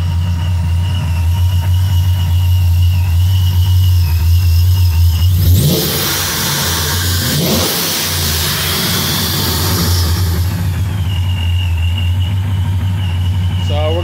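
A supercharged F-body car with a return-style fuel system, Hellcat fuel pump and 72 lb/hr injectors idles loudly up close, then revs in a sharp rising burst that falls back to a steady idle.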